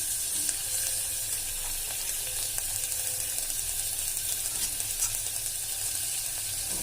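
Mixed vegetables sizzle and fry in hot oil in a pan for vegetable pulao, a steady, close, crackling hiss that continues without a break, with faint stirring beneath it.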